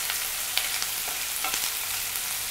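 Chopped onion frying in a pan until brown, a steady soft sizzle with a few light stirring clicks, close and moderately quiet, no voices.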